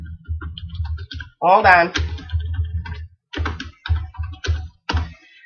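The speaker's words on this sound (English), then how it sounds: "So I'm going to type this." Typing on a computer keyboard produces clusters of close, rapid key clicks in short bursts, and a person speaks briefly over them.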